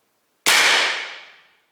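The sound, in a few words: Umarex Air Javelin HPA air gun firing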